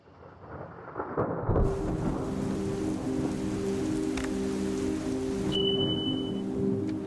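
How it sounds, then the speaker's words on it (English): A thunderstorm at night, with steady heavy rain hiss and a deep continuous rumble throughout, plus a faint tonal hum partway through. "It's a stormy night."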